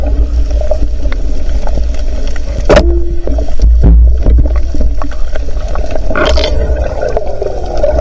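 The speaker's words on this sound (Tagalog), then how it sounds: "Malalaki yung alon." Rough sea swells slosh and thump around a small fishing boat, with a steady low rumble of water and engine throughout and occasional louder splashes and creaks nearby, no talking.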